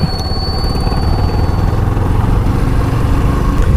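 A geared motorcycle engine runs loud and close, rumbling steadily with a slight shift in pitch as the rider gears down.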